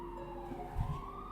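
A siren wails faintly in the background in New York, a steady rising tone under low city rumble.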